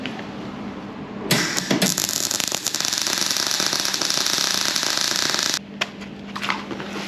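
Arc welding on a thick old steel exhaust stand bracket for a Volvo F7 truck, a steady close crackling hiss that runs for about four seconds before cutting off, with a quieter background hum around it.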